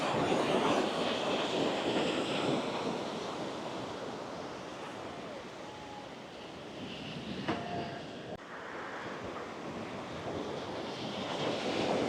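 Ocean surf rolling onto a beach in Phuket, Thailand, a continuous broad wash of breaking waves with gentle swells and fades, steady and fairly close, no voices.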